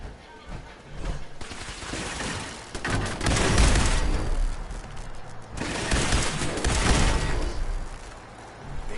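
An automated turret in Fallout 4 fires in loud, sustained bursts of rapid gunfire, two long volleys separated by a short lull, booming close and dense.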